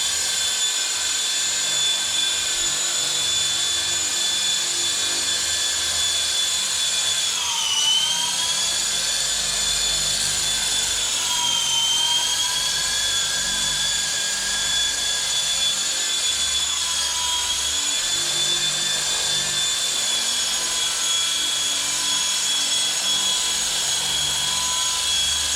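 A WLtoys V913 brushless RC helicopter flies close by with a loud, steady high-pitched rotor and motor whine that dips slightly in pitch a few times as it maneuvers.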